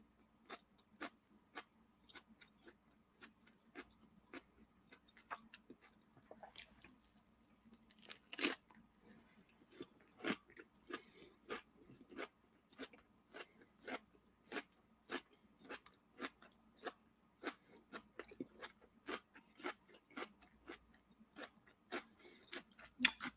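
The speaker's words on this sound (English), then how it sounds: "if I was eating this onion and didn't open my mouth, y'all couldn't hear the crunch." Raw onion being bitten and chewed, a long series of sharp close crunches in a steady rhythm, each one crisp and distinct against a quiet background.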